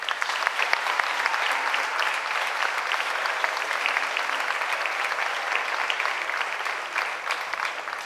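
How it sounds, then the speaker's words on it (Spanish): An audience applauds a ballet academy jury at a closing ceremony, steady dense clapping filling the room for the whole stretch, moderately loud with no pauses. "para todo este jurado pedimos un fuerte aplauso"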